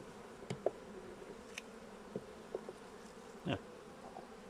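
Honeybees buzz around an open hive during autumn beekeeping as a weak hive is merged with a queenless one, with brief individual bee passes flicking by close, one louder drone late, over a quiet hum.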